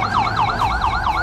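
An ambulance siren wails in a fast, steady up-and-down sweep, loud and close, at a road accident scene on Avenida Osório de Paiva in Parque São José.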